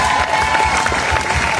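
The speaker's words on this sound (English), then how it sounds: "Clap it up, man." A short burst of lively crowd applause, dense clapping heard close and fairly loud without pause, with faint voices mixed in.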